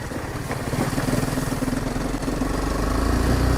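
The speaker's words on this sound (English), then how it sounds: "You can hear the engine being like, I'm not too happy with this." Steady, loud engine drone from a 2018 BMW G310GS motorcycle labouring in second gear on a dirt road with creek crossings, a continuous strained mid-pitched rumble with no pauses.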